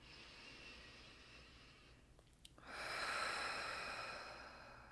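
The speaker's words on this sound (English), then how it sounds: "Breathing in." A slow, deep inhalation during a guided meditation, a soft broadband rush of air that swells after a short pause and holds steady for a couple of seconds, close and quiet with no talking.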